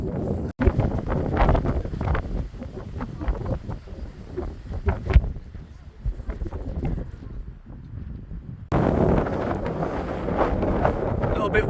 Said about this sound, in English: A little bit windy up here now.